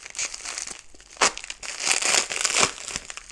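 Plastic packaging around RC crawler parts crinkles and tears as it is ripped apart by hand, close and rustling in uneven bursts with one sharper rip.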